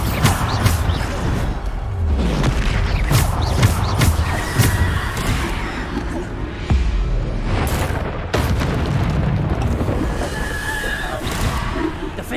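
Repeated booming blasts of the Bombarda explosion spell in Hogwarts Legacy land one after another amid dense, loud game combat noise, with low thuds and crashes filling the clip.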